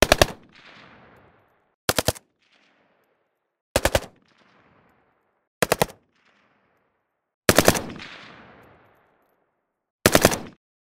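Modern gunfire sound effects made for video games: six sharp, loud bursts of rapid automatic fire, each lasting a fraction of a second and spaced about two seconds apart, several trailing into a decaying reverberant tail.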